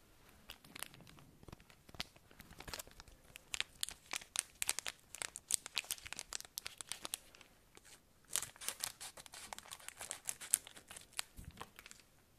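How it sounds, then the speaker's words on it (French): Pokémon Sword and Shield booster pack foil torn open and crinkled close to the microphone, a quiet, irregular run of sharp crackles and rips with a short pause midway. "on va ouvrir le deuxième booster"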